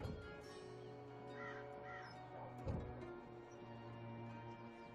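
A talking bird in the Dreamfall Chapters video game gives a few croaking caws over a steady humming ambient drone, moderately faint, with no speech.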